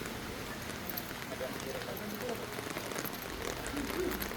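Light rain falling on a street in Mandaue, a steady soft hiss that continues throughout, with faint background murmurs and no clear foreground voice.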